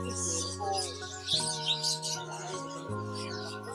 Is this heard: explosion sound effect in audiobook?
no